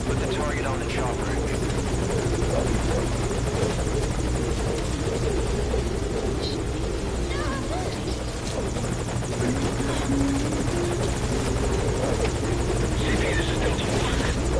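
Steady helicopter rotor and turbine drone at a landing zone in Metal Gear Solid V: Ground Zeroes, loud and unbroken throughout, with radio chatter layered on top.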